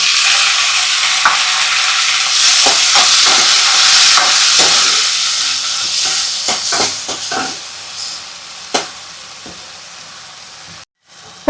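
Tomatoes drop into a pan of golden-brown, crispy fried onion for a Konkani-style cashew curry. A loud, hissing sizzle with stirring scrapes fades gradually, broken by a few sharp clinks, and no one speaks.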